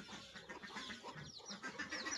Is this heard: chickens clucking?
yes